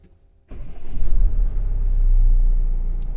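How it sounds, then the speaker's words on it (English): A 2021 Tata Safari's engine cranks and catches after a moment of quiet, settling into a loud, close, steady deep idle rumble with no talk over it. "Let me first of all start the vehicle."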